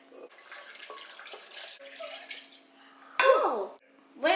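Fruit smoothie poured into popsicle molds in a home kitchen, a soft liquid trickle and splash under quiet background, with a brief louder gush near the end.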